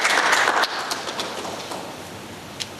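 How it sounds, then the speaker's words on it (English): An audience at a memorial lecture applauds to welcome the evening's chair, a steady wash of clapping that is loudest at first and then slowly thins and fades. "Let's welcome her with a round of applause as she comes to give us a"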